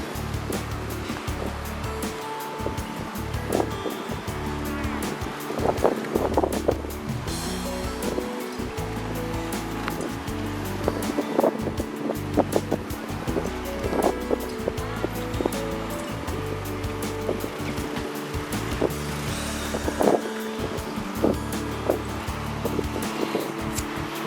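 Strong wind gusting along a seaside beach road, a continuous loud rushing roar with buffeting bursts against the microphone, like surf, running steadily throughout with no talk.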